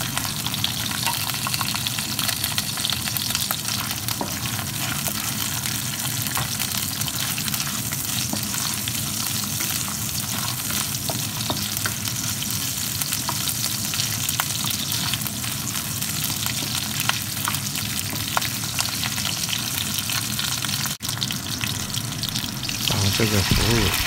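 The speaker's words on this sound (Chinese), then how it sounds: "我们锅中少量的加点油，把姜和葱头给它爆香" Ginger and shallots stir-fry in a little oil in a wok, giving a loud, steady sizzle that runs unbroken from start to finish, with faint clinks of stirring underneath.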